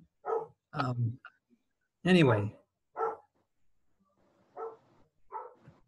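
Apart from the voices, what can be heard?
German Shepherd dog barking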